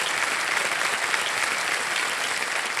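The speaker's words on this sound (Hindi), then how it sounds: "बहुत बहुत स्वागत, तालियां बज जाए इनके लिए।" Studio audience on the Hindi quiz show KBC bursts into sustained applause to welcome a contestant, a thick, even roar of clapping from many hands, continuous and fairly loud with no talk over it.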